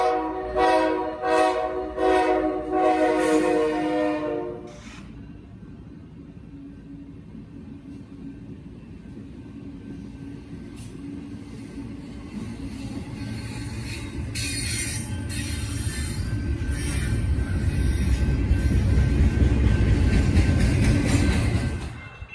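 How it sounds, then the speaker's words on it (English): Five BNSF genset switcher locomotives heading east toward a scrapyard: a loud horn blast opens, then a steady rumble of engines and rolling wheels builds and grows louder as the train passes close by. "We see 5 BNSF genset switchers heading east to the scrapyard."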